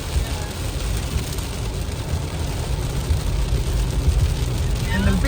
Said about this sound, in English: And then it started raining heavy again.